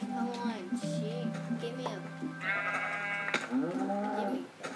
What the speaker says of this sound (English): I thought I just saw a sheep.